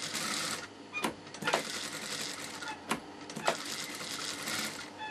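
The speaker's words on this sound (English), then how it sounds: "Now with the gathering foot, I'm putting gathers in this piece." A sewing machine fitted with a gathering foot gathers fabric for a maxi dress, running in a steady close whirring hum broken by a few sharp clicks and short pauses.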